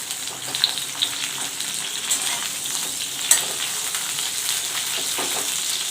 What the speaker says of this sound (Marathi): ज्या मिरच्या कट केल्या आहेत आपण त्या टाकून घ्यायच्या आहेत छानपैकी याच्यामध्ये आपल्याला त्याच्या परतून घ्यायच्या आहेत तेलामध्ये